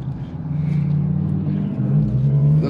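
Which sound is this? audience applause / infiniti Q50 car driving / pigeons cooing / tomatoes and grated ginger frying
infiniti Q50 car driving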